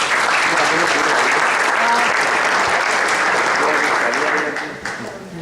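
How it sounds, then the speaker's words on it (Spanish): A conference audience gives a loud, dense round of applause for a panel, steady and even before tapering off near the end. "un fuerte aplauso"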